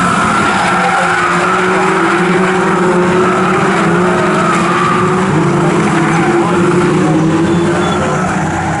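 Toyo Tires 7 Series 420R race cars thunder down the straight at Snetterton in a slipstream battle, a loud, sustained engine drone with shifting pitch and tire noise throughout.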